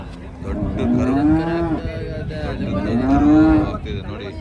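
A cow at a cattle market lows twice in long, loud drawn-out moos while three men pull it along, the calls close and clear over faint background murmur.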